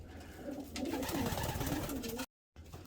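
A racing pigeon coos in soft, rolling, low phrases close by in a loft, cut short by a brief silent gap at the end.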